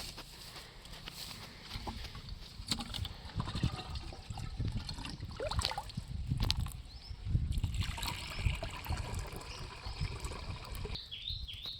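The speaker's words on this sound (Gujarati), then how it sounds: "હવે આખો પંપ પાણીનો ભરી નાખવાનો" Water pours steadily into a sprayer pump tank already holding sugarcane juice, a continuous gurgling splash heard close up outdoors in a chickpea field, with occasional knocks and shifts in the flow.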